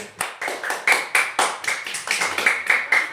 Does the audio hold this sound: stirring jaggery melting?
no